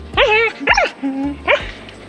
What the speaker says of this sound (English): Oh, our neighbor dog.